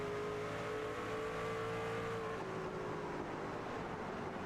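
Truck-series race trucks lapping Bristol in a racing video game: a dense, steady engine roar with sustained tones that slowly slide in pitch, continuous throughout.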